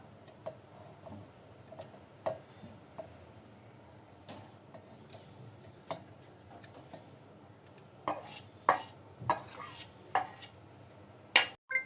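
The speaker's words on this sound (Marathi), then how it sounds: "आता आपण ह्या प्रकारे ह्या मिक्सरच्या भांड्यात ह्या गराला काढून घेऊया." Mango pulp is scooped into a mixer jar with a spoon, giving a quiet run of scattered clinks and scrapes against the jar that grow busier and louder toward the end, with no talking.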